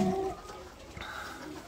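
Pigeons cooing softly at a Romanian pigeon breeder's loft, a low muffled coo or two over quiet background rustle.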